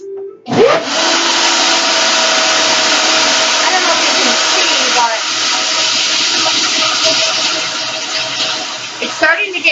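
A mixer whips a homemade plant-based healing lotion, giving a loud, steady whirring drone from start to finish that only shifts slightly as the motor runs on.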